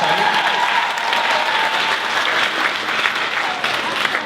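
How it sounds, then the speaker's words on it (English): At a Poetry Out Loud recitation event, the audience breaks into a sustained round of applause, a loud, dense, continuous wash of many hands clapping at once from start to finish. "let's hear a big round of applause for all of our"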